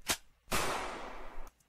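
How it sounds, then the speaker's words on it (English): A short sharp crack, then a louder gunshot with a brief fading tail, and a faint click at the end. "there's also a gunshot sound effect for the breakdown that that Tanner gave to me"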